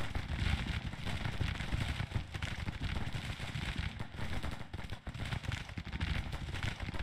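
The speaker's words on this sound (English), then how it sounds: "now we got everyone firing on this" Massed rifle and artillery fire in the Civil War strategy game Grand Tactician, a dense continuous crackle and rumble of gunshots that stays loud and unbroken throughout.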